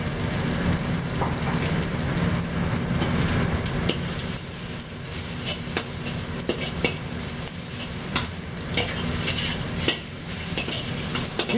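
Pork Cantonese chow mein noodles are stirred and fried in a hot pan, giving a continuous dense sizzle with scattered scraping clicks from the utensil, close and steady throughout.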